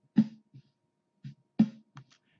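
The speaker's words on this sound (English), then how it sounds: "And we're only getting the snare." A soloed snare drum track plays back in Reaper. Two sharp, fairly loud snare cracks land about a second and a half apart, each followed by quieter ghost notes and a little bleed.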